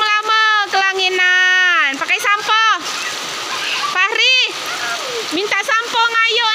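Rain splashes down steadily on a child bathing outdoors, a constant watery hiss running under loud, wavering talk and voices that fill most of the stretch.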